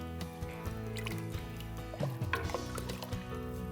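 Bone broth poured into a pot for collard green soup with ham and beans, a soft liquid splash and trickle with a few gurgles and drips, close and fairly quiet.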